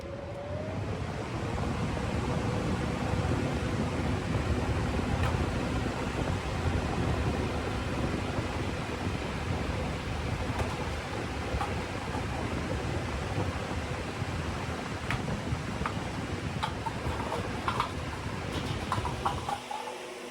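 Steady broadband wind roaring against a test house, a constant dense rush with no clear gusts or pauses, fairly loud and continuous throughout, ending with a slight drop at the close.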